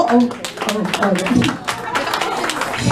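Scattered clapping from a small audience at a book preview party, light claps pattering under a voice as she speaks.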